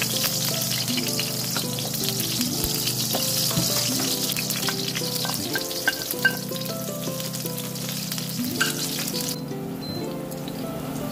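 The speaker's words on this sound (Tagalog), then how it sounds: "Tapos ay mag-igisa lang tayo ng sibuyas at saka bawang." Onion and garlic sauté in hot cooking oil in a pan for a beef ribs stew, giving a steady, close, loud sizzle and crackle with occasional stirring scrapes throughout.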